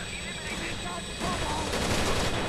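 Gunfire in the tactical shooter Rainbow Six Vegas, a dense burst of rapid shots that grows louder halfway through, with game ambience and talk around it.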